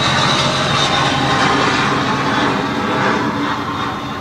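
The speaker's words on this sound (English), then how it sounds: "here comes the plane" A jet passing overhead along a flight path, heard from a spot directly beneath it as a loud, broad roaring rush that holds steady throughout.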